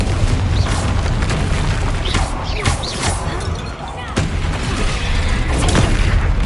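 Booming blasts and crashes from the Confringo blasting spell in Hogwarts Legacy during a troll fight, loud and dense over a steady battle rumble, with strikes around the middle and near the end and faint voices mixed in.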